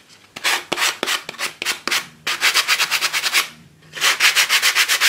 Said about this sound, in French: on peut aussi poncer les arêtes et faire ressortir le noir qui est dessous, le gesso noir, pour donner un effet usé